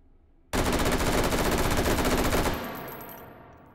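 Loud automatic gunfire at the sniper range in the VR game Hot Dogs, Horseshoes & Hand Grenades: one sustained burst of about two seconds, then a fading echo tail, with no talking.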